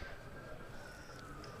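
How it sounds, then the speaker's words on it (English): Distant emergency siren heard over a county cricket match, a faint wavering tone drifting in the background across the short span, very quiet beneath the low ambient hum of the ground. "I hear a siren in the distance."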